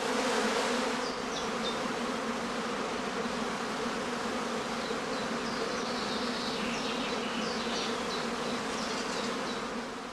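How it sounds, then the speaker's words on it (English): A honeybee swarm emerges at a large home apiary on heathland in northern Lower Saxony. Thousands of bees make a dense, steady buzzing hum that fills the air without pause. "In a large home apiary like this one, several swarms may emerge almost simultaneously."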